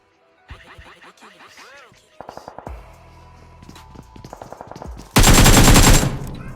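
Gunfire rings out in a third-person shooter video game as the player targets an enemy: scattered single shots give way to rapid bursts and then a very loud, dense automatic volley near the end.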